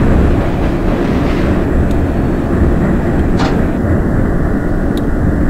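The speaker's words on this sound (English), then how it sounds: "the sounds on this particular train is really top-notch stuff" A loud, steady rumble of a New York City BMT L-line subway train running on rails in the OpenBVE simulator fills the clip, with a few faint high clicks and squeaks above the continuous roar.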